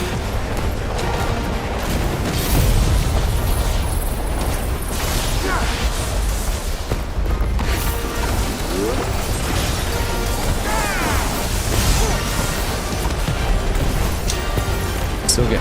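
Bombing explosions in Final Fantasy XVI boom continuously over a thick battle din of bursts, pops and rumbling game effects, loud and sustained, with a voice talking faintly beneath.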